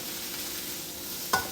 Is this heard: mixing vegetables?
yes